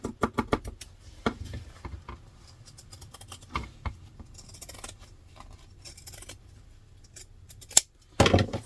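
Scissors snip through fabric for a diaper clutch in a string of quick, close cuts, irregular in rhythm and with brief pauses, ending in a louder burst of rustling handling.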